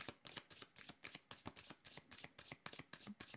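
A deck of cards is shuffled over and over in quick, rhythmic riffles, each burst crisp and close, in a quiet room before a card reading.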